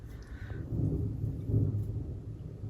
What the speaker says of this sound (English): I don't know if you could hear that, but it did just thunder